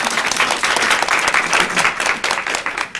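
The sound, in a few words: audience applause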